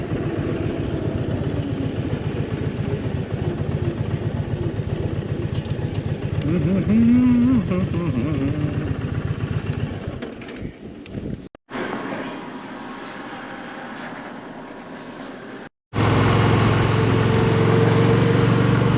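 An Indian Challenger motorcycle rolls by with a loud, steady engine drone that suddenly drops away and goes quieter, then cuts back in at full strength, with only a hint of voice.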